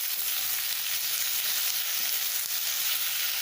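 Onion, capsicum and chilli fry in a pan for chilli fish, giving a steady, even sizzle that carries on alone without a break.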